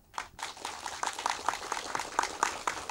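An audience of students and farmers gives a loud round of applause for cyclists generating renewable energy with pedal power, with dense steady clapping that swells after a quieter start.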